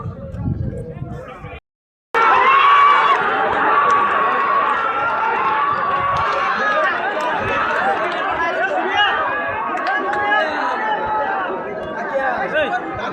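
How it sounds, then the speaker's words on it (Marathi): A crowd chatters loudly at a bullock cart race during the semi-final round, many voices overlapping in a continuous din that breaks off briefly near the start and then resumes. "सर्जाचा सेमी चाललाय आता पालायला. पब्लिक पण जमा झालेली."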